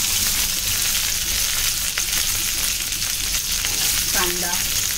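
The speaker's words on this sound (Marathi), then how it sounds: "हे छान परतून घेऊया लालसर रंग येईपर्यंत।" Green chillies, garlic and curry leaves sautéing in about three spoons of hot oil, a loud dense sizzle filling the whole stretch with faint stirring scrapes, close and steady, no speech.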